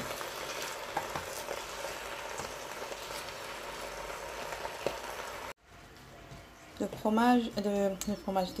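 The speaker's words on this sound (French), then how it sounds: "Je vais les laisser tomber 5 minutes environ en remuant avec de l'huile." Spinach wilting in oil as it is stirred, a soft continuous frying crackle and hiss for about five seconds, then it cuts out and someone speaks.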